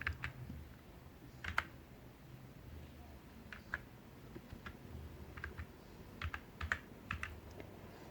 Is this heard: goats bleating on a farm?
no